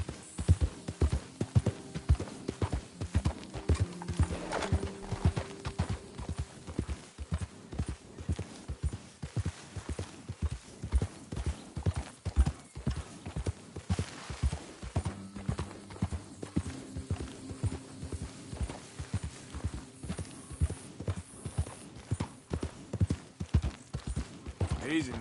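A horse's hooves pound in a fast, even clip-clop rhythm throughout a ride in Red Dead Redemption 2, close and prominent, with occasional spoken lines and a whinny mixed in.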